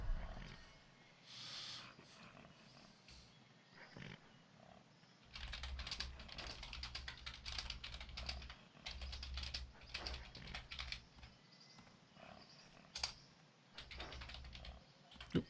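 Quick, light clicking of a computer keyboard during a session of the MMO Ryzom, heard faintly as steady typing over a low background hum.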